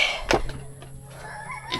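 A rooster crows faintly at a rural home by Agusan Marsh, a short, distant call within quiet outdoor background noise.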